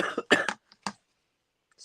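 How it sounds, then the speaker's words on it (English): A lingering cough of several months, heard as a short burst of two or three rough coughs close up, then a brief throat sound and quiet. "Still got this cough."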